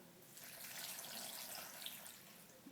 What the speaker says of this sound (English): Big glug of water.